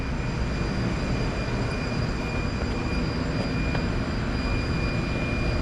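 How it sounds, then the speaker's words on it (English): A laser engraver and its exhaust fan run steadily for making a wooden family piece, a loud, unbroken broadband roar with a faint high whine and no voices. "turn on the exhaust, the laser."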